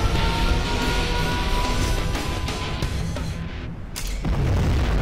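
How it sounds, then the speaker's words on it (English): A supersonic aircraft's sonic boom in the video game Command & Conquer Generals Zero Hour, a heavy rumbling boom roaring continuously, dipping briefly before another deep blast hits near the end. "Breaking the sound barrier."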